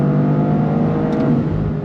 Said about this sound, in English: it's blipping the throttle as it goes from 4th gear to 3rd gear to 2nd gear